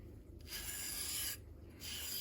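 A fingernail scrapes across a rough diamond sharpening steel in two short, faint rasping strokes, close and quiet.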